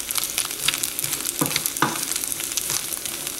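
Sliced carrot and cabbage sautéing in a pot for a one-pot rice dinner, a soft continuous sizzle broken by a couple of sharp utensil scrapes and knocks nearby.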